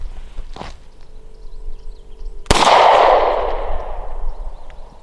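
A Hi-Point CF380 pistol fires one loud, sharp shot outdoors at a can on a post, the blast ringing out and decaying over a couple of seconds, preceded by a faint tap and low background hum, with no talk.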